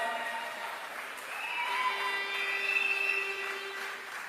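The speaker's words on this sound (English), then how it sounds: "Give yourselves a round of applause." A large crowd at an outdoor political rally applauds in a steady, fairly distant wash of clapping and cheering, with sustained whistle-like or horn-like tones running through it.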